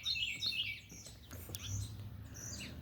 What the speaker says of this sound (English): That's birds chirping.